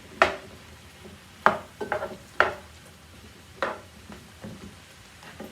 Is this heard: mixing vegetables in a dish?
yes